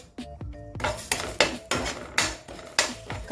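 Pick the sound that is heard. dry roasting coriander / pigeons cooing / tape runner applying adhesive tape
dry roasting coriander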